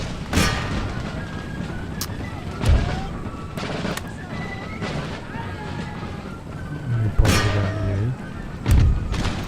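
Musket volleys and cannon thumps from a battle in Empire: Total War, scattered booms and cracks over a rumbling battlefield bed, with someone talking over part of it.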